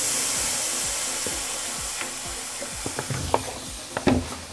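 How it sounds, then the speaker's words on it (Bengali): Water hits sizzling, oil-fried spice masala for a pangas fish curry: a steady loud hiss of frying with scattered sharp pops and crackles that grow more frequent toward the end, with no talking. "এবার এর মধ্যে দিয়ে দিচ্ছি জল।"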